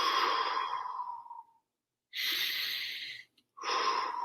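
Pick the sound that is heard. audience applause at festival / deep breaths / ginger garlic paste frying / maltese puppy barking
deep breaths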